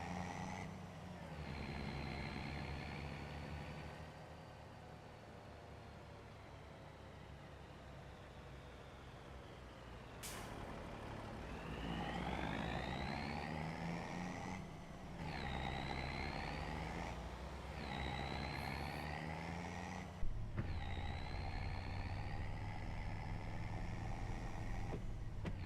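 A steady truck engine in Farming Simulator 25 drones throughout, with rising whines as it revs through gears and a brief sharp knock near the end.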